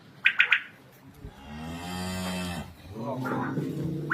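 Simmental cows moo nearby in two long, low, drawn-out calls, preceded by a few sharp clicks.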